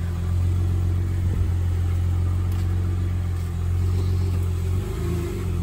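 A 2019 Polaris RZR Turbo XP with frame damage idles steadily, a deep continuous engine rumble held close and loud throughout, with a slight dip near the end.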